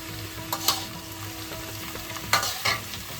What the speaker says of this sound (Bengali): হালকা হাতে একটু নাড়াচাড়া করে দেবো।